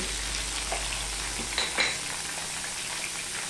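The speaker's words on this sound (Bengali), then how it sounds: "দিয়ে পেঁপেটাকে আমি ভেজে নেব, মোটামুটিভাবে আমি ভেজে নেব।" Papaya pieces with a pinch of salt frying in a pan: a steady, even sizzle fills the clip, with a couple of light utensil clinks near the middle. No one speaks.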